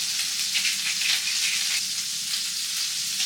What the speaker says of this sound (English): All right, so that's gonna be sizzling away.